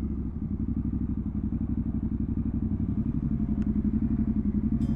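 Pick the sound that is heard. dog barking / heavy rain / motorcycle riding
motorcycle riding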